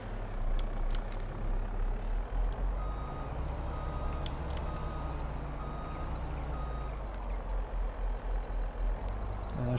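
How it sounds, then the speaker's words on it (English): A trailer offloads in Farming Simulator 22 with a steady reversing beep over a low idling truck engine rumble, the beeping repeating in an even rhythm with no talking. "The good thing about this trailer is that you can offload stuff."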